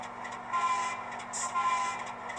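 Small electric motor of an HO-scale model train whirs steadily under a faint mechanical hum, with a brief higher whine midway, close and moderately quiet.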